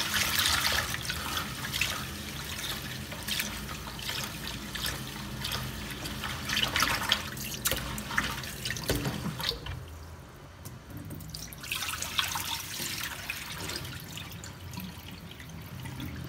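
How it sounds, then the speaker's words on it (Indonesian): Ingredients for idli being washed by hand in water in a sink: continuous splashing, swishing and trickling, close and fairly loud, with a short quieter pause partway through and no talking. "Kita cuci bersih agar kotor-kotornya hilang ya teman-teman."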